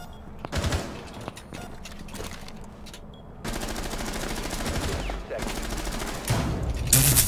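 Gunfire rings out in Rainbow Six Siege, dense and loud, with bursts of shots packed closely together across the stretch and a brief lull in the middle.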